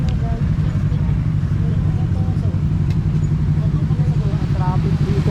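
Engine of a Harley-Davidson motorcycle on a mountain road, a steady loud low rumble close by that runs continuously throughout, with faint voices over it.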